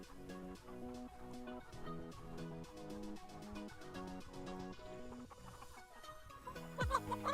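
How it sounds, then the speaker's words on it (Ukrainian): Chickens cluck in short repeated bursts close by, layered over a steady tonal background, with a louder squawk near the end. "Так, кури. Може бути кури."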